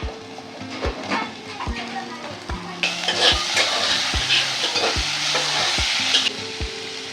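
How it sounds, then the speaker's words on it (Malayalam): Onions sizzle in hot oil as a base for fish biryani, with a spoon scraping and stirring the pan in regular strokes over a steady frying hiss. "ഇനി അതിൽ തന്നെ നമുക്ക് ഉള്ളി ഇട്ട് കൊടുക്കാം"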